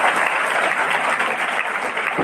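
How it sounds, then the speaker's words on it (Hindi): Audience at a school award ceremony for meritorious students claps steadily and densely, a continuous loud wash of applause throughout. "ताली बजाते जाओ भाई।"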